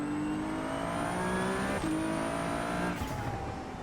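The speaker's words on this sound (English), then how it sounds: "This Ferrari, by the way. I know it's got 700 horsepower." A 700-horsepower Ferrari race car in the iRacing simulator holds a loud, steady engine drone with a brief gear-shift dip and a sliding tire note near the end, with no voices.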